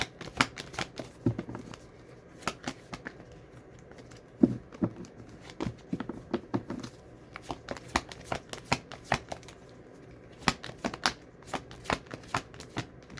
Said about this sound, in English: now we will shuffle for your what's another theme?